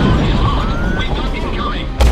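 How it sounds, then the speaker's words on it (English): Incoming anti-aircraft fire in the video game Drone 2 Air Assault: a dense, continuous barrage of booming, rumbling game audio with a rising whine, topped by a sharper loud burst near the end. "Incoming AA fire!"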